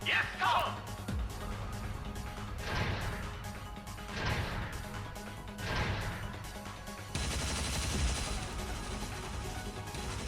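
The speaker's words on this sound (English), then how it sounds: "now the soldier's gonna shoot the shit out of it" Soldiers fire guns in the video game Tokyo Xanadu EX+, a run of repeated sharp bursts and crashing impacts under game music and voices, fairly dense throughout.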